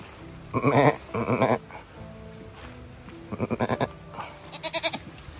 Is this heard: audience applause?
no